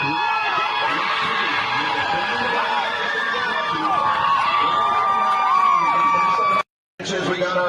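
A race crowd cheers and shouts in a dense, continuous roar, with voices calling out over the steady noise before a brief cutout near the end.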